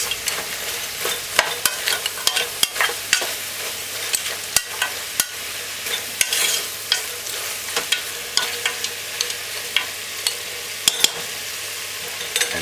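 Curry goat is stirred in a pot, a steady sizzle punctuated by frequent sharp scrapes and clacks of the spoon against the pot, close and fairly loud, with no voices.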